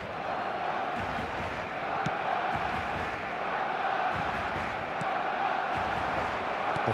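Steady stadium crowd noise from an eFootball video game match, a dense continuous roar of many voices holding level throughout with no commentary over it.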